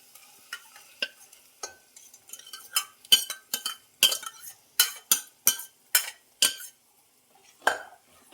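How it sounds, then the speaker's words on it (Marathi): Cooked urad dal is stirred into masala in a pan with a spoon, heard as a series of close, crisp scraping strokes, roughly one every half second, over a faint sizzle. "तिला मस्तपैकी परतून घ्यायची अशी मिक्स करायची"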